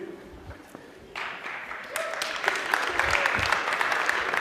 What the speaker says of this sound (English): Did you guys just applaud someone for taking a picture while standing on a chair?